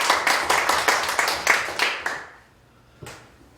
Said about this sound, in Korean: 우리 정희숙 목사님께 뜨거운 박수 한 번 더 부탁드리겠습니다